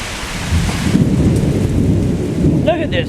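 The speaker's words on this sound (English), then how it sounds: "Look at this freaking rain" Heavy thunderstorm at an outdoor concert rainout: dense pouring rain hissing steadily with a rumble of thunder rolling underneath, close and loud throughout.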